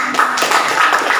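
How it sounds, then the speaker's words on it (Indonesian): A class claps for a group presentation, a short burst of scattered hand claps close by over a steady room background. "Boleh kasih tepuk tangannya?"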